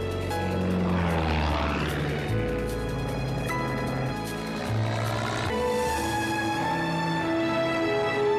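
Propeller airplane in a film scene, its engine droning loudly and steadily with shifting pitch as it passes close, a strong harmonic buzz continuing throughout without speech.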